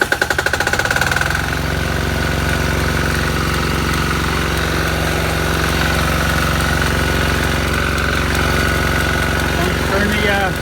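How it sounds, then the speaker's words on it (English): A Yanmar 10 hp diesel DC backup generator starts up and then runs steadily and loudly, a close, throbbing engine drone with a knocking rhythm that holds for the whole stretch. "Turn the generator on. You hear it loading down."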